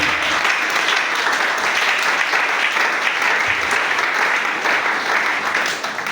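Sustained applause from a church congregation, steady and dense for the full stretch, close and loud, tapering slightly at the very end.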